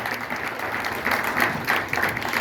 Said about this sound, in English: Let's give Beverly a round of applause